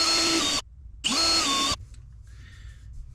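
Power drill boring into a door while fitting a magnetic door stop, two loud sustained whirring bursts separated by a short pause, followed by a quiet stretch with faint rustling.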